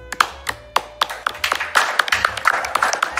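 Scattered hand claps from a small group in a casual indoor setting for a sponsor shout-out, a loose irregular patter of sharp slaps that never builds into full applause.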